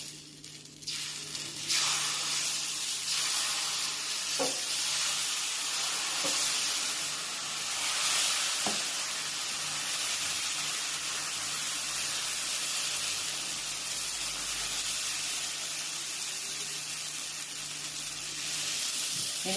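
Dosa batter sizzling on a hot, oiled griddle over low gas: a steady, dense hiss that runs the whole time, close by, with a few faint clinks and no speech.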